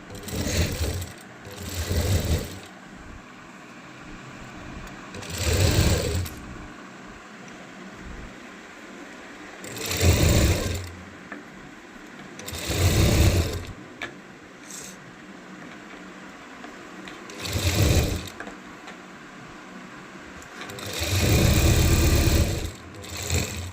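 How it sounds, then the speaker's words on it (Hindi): A sewing machine runs top stitching along the folded edge of fabric in about six loud, close bursts of rapid whirring, each a few seconds long, separated by quieter pauses. "इस तरह से हमको पूरी धार की सिलाई लगाना है"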